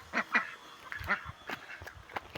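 Several ducks quack and honk in short, irregular calls over a faint background of splashing water as they bathe together, the calls near and moderately loud.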